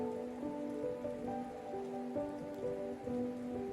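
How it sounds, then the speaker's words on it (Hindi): Heavy rain falls steadily outside a building at night, a continuous soft hiss that lasts the whole time over a quiet tonal background, with no voices. "बाहर बहुत जोरों की बारिश हो रही थी"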